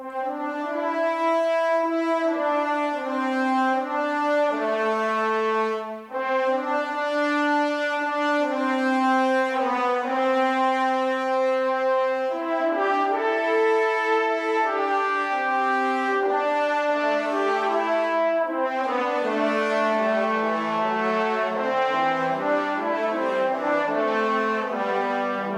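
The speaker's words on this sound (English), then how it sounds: "Horns and bones are also playing almost the same melodic line" Orchestral horns and trombones play almost the same sustained melodic line in a classic adventure-style score, with rich brass harmonies moving through slow phrases, full and continuous with no voices.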